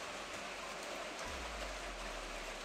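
Steady rain pours down outdoors as a continuous even hiss, its loudness damped by noise reduction, with no voices present.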